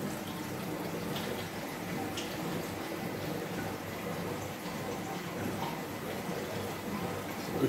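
Steady rushing and trickling water flows through plumbing filling 5-foot aquarium tanks, a constant low hiss with faint splashes, moderately quiet and unbroken.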